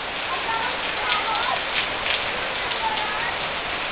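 Steady rain falls on a surface in a continuous even hiss with scattered drops and no break, heard fairly close and filling the whole stretch.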